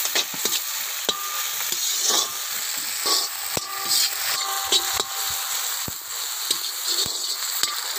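Tomatoes go into sautéed onions in a pan for quail gravy, and the mix sizzles and fries under repeated sharp scraping and stirring clicks of a spoon against the pan, close and busy.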